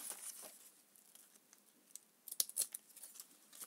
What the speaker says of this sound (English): And then just cut off the little excess parts.